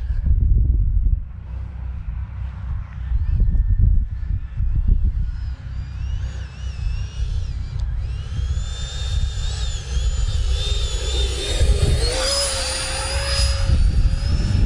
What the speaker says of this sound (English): Because the jet doesn't want to slow down, and it just wants to keep on flying.